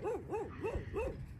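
A dog at a shelter gives four short, rising-and-falling barks or yips in a steady rhythm, close and fairly loud, with no talking over them.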